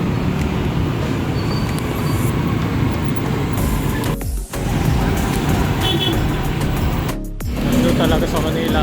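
Afternoon road traffic in Baclaran, Manila, near the LRT: a loud, constant rumble of passing cars and buses, with brief dips and the whoosh of nearby vehicles.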